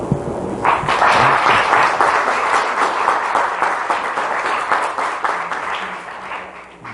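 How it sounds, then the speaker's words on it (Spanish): An audience applauds after an academic talk on mapping techniques and kernel analysis. Dense, loud clapping starts abruptly, holds steady for several seconds, then gradually thins and fades. "le podemos dar un aplauso a..."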